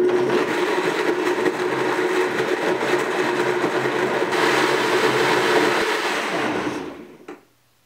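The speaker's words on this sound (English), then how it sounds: "you're going to want to get your blender and put it all in the blender and then turn it on" A blender whirs steadily at high speed for several seconds, blending coconut and almond milk ingredients, loud and close, then winds down and stops abruptly near the end.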